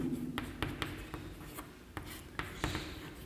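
Chalk or pen writing out a chemistry definition during a class, with a series of short scratchy strokes and taps at irregular intervals over a low background hum.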